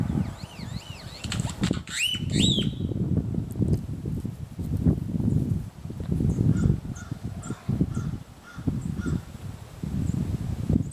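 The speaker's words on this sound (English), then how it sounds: "There's this cool crow making these weird calls and clacks and weird stuff." A crow at a lakeside zoo campsite gives a burst of strange high, bending calls early on, then keeps up a steady run of low, hollow clacks and knocks, close and fairly loud.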